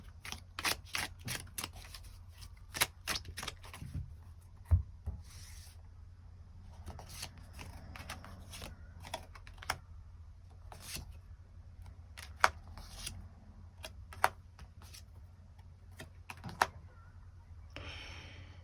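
Tarot cards being shuffled and drawn for a love reading, a run of quick papery flicks and snaps that come close and fairly soft, with sharper single taps of cards laid down later, no talking.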